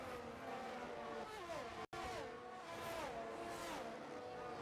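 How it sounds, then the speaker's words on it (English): Two Ferrari-powered F1 cars in F1 23 race side by side at Bahrain and sweep into a downhill left-hander. Their engines whine and shift down through the gears, close and steady, with one brief dropout in the middle. "The 2 Ferrari-powered cars are side by side into the downhill left-hander"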